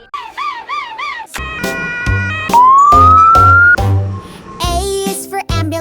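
An ambulance siren sound effect plays loud and close in a children's vehicle alphabet song, with a wavering wail followed by a rising tone and bright musical notes and beats.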